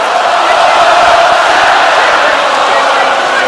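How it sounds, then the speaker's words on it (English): Dense, loud roar of a boxing arena crowd cheering and yelling in support of Savannah Marshall during her fight with Claressa Shields, a continuous wall of voices. "Yeah, the crowd have got really behind her"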